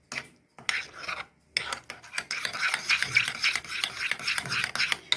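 A spoon scrapes and stirs a starch mixture in a pot for a sweet potato dessert, rasping strokes that start after a short pause and then run in a quick, uneven rhythm, close and clear.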